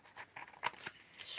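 Scissors cutting DIY stamped paper, a few quick crisp snips close by in a quiet room.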